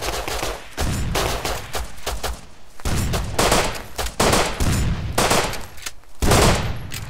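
Gunfire in the survival game Rust, loud close bursts of rapid automatic shots broken by short pauses, repeating throughout.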